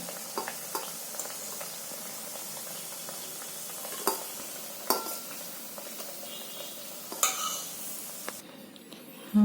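Colocasia (alu) vadi frying in a pan, a continuous crackling sizzle broken by several sharp clinks and scrapes of a utensil, close up with no talking.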